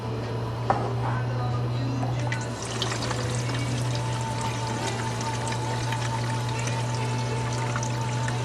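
Gasoline pours into a vehicle's tank in a steady, close rushing flow that runs throughout, with a constant low hum beneath and a few faint knocks.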